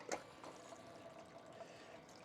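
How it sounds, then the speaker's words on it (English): A water stream is switched on and sprays onto a Desert Fox spiral gold panning wheel, a faint, steady pouring rush after a brief sharper splash at the start. "let me turn the water on"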